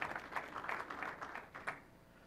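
A presentation audience gives a slow, sparse clap at a Windows 10 Mobile Continuum demo, a handful of quiet, unhurried claps heard at a distance with no talk over them.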